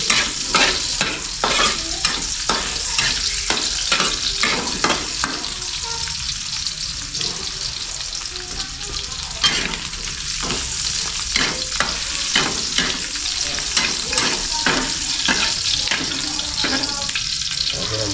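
Garlic and onion sizzling and frying in hot oil in a pan for dinuguan, with steady loud crackle and repeated stirring scrapes throughout.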